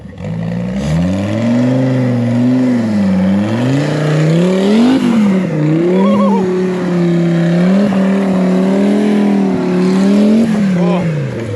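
A 4-wheel steering off-road crawler buggy climbs a tree obstacle at an off-highway vehicle park, its engine revving up and down close by in a steady, loud, continuous drone with rising and falling pitch.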